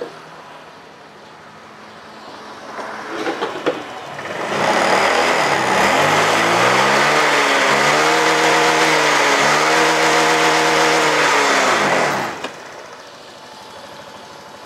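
A Honda Vario 125 scooter with a bogging fault idles, then is revved hard and held at high revs for several seconds before dropping back to idle, loud and close, with no talk.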